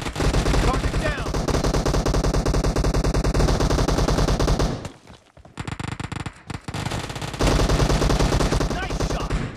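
Automatic gunfire in the shooter game PUBG rattles in loud, rapid bursts, breaks off briefly for a choppy, quieter stretch, then resumes at full intensity.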